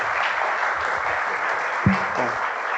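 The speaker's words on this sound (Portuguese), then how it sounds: "Salve de palmas para o Rômulo, por favor." Sustained audience applause at a public launch event for a mobility and sustainability project in Rio, a steady dense wash of clapping throughout with a brief thump near the end.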